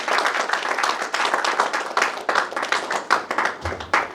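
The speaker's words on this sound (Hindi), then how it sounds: "एक बार जोरदार तालियों से बधाई दीजिए" Audience at an anniversary celebration event giving loud, sustained applause, dense clapping throughout with no talk.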